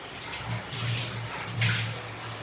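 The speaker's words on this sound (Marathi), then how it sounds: "आता कोळंबी आणि बटाटे शिजण्यापुरता आपण पाणी टाकूया" Water pours into a pan of prawn and potato curry, giving a faint, uneven splashing gush in two short bursts with a low burbling underneath, and no talk.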